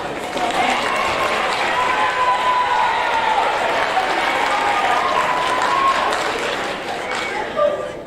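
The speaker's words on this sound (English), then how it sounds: "One more round of applause." A school gym audience at a 7th grade awards ceremony bursts into sustained, dense applause, many hands clapping together at an even level for several seconds before tapering slightly at the end.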